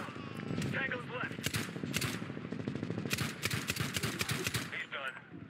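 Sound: gunfire in video game Medal of Honor 2010

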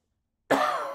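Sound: cough

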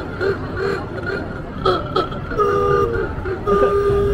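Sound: vehicle horn honking at parade

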